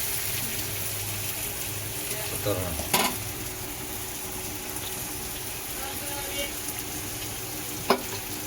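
Prawns sautéing in a pan, a steady low sizzle with occasional stirring scrapes and a couple of sharp utensil clinks against the pan, heard up close with a voice speaking intermittently over it.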